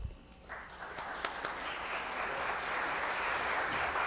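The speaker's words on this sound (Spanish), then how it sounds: "para quien solicitamos un caluroso aplauso." Audience applause at an academic presentation event at a university, starting abruptly after a short pause and swelling into steady, dense clapping that fills the room for several seconds with no talk.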